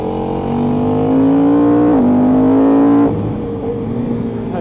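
A KTM RC8 sport motorcycle fitted with a 1290 engine, throttle reapplied on track: a loud, close engine drone that climbs steadily, dips briefly at a shift, then rises again before easing off.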